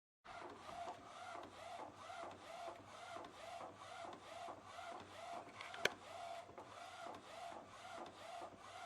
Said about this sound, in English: it started out not printing the white the way I want it to